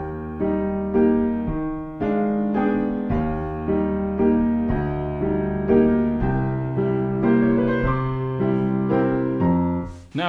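Piano played with both hands at one even volume, a steady melody over chords with regular note attacks throughout, close and clear with no talking.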